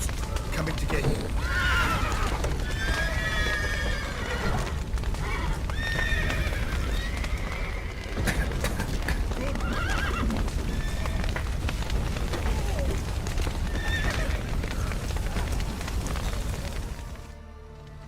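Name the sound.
horses neighing and clip-clopping in The Witcher 3 video game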